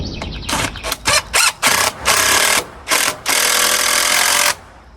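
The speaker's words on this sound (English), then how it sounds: "I just have to shoot some screws in here" Power screwdriver driving screws into wood while fitting a solar pool liner, a series of short loud whirring pulses followed by one long sustained run, close by.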